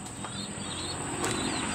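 Pigeons are released and beat their wings in a short close burst of flapping, a rapid fluttering rustle with a stronger flurry near the end.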